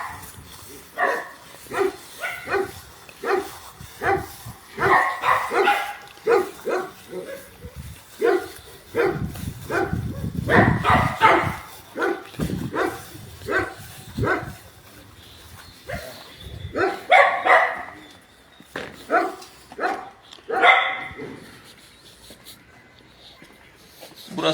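Dogs bark repeatedly in bursts, close by and fairly loud, with speech mixed in among the barking.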